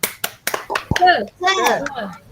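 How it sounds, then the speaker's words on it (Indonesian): Schoolchildren in a classroom doing a rhythmic spirit clap, a few sharp, distinct claps in a pattern at the start, followed by children chanting and talking together. "Nah, kita tepuk semangat dulu ya, tepuk semangat."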